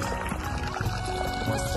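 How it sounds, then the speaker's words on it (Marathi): Water gushes from a pipeline into an onion field, a soft, steady pouring and splashing heard faintly and without a break. "मस्त पाणी येते"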